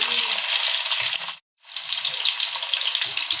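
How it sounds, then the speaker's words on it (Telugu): Chopped onions and cumin sizzle loudly in hot oil in a kadai, a dense steady frying hiss that cuts out briefly mid-way and then resumes, with no talking. "ఇప్పుడు పెట్టుకున్న కడాయిలో ఆయిల్ పోసుకోవాలి. జీలకర్ర వేసుకోవాలి. కట్ చేసుకున్న ఆనియన్స్,"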